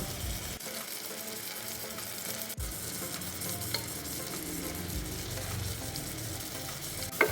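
Tomato, green chili, chili powder and coriander powder sauté in a cooker with a dense, continuous sizzle and frequent stirring scrapes close by, plus a sharp knock at the end, and no voices.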